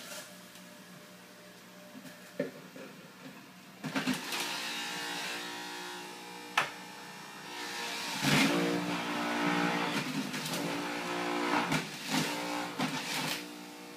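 A Fusion juicer running out of balance: a quiet motor hum that grows busier after a few seconds, with rattling and occasional sharp knocks throughout.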